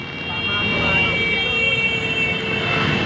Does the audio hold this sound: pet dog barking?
no